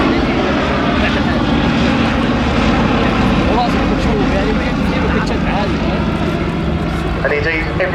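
A Fairey Swordfish biplane flies at the Cosford Air Show, its propeller engine droning steadily and loudly throughout while someone speaks over it.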